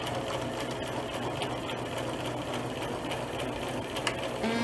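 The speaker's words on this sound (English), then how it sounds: "I'm going to lower the needle down a little bit and I'm going to start to sew and back stitch a little bit." A sewing machine stitching fabric for wrist straps runs in a continuous close whir with a steady rapid needle rhythm, no talk over it.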